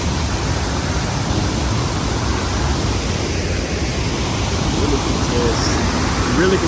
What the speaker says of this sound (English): I may do a voiceover on this part because the waterfall is so loud